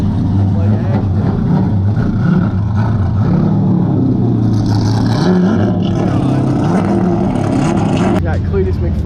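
A modified Corvette with a V8 engine roars and revs loudly at an LS Fest car show, a continuous heavy rumble up close with crowd voices talking over it.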